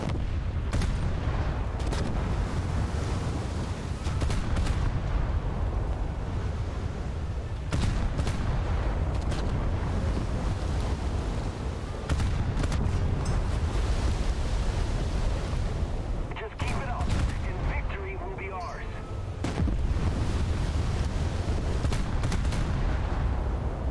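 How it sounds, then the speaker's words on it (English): Torpedo impact explosions on an enemy ship in a naval video game, heard as a dense continuous rumble of booming blasts and gunfire with several sharper bursts, loud throughout. "I see a torpedo impact on the enemy ship."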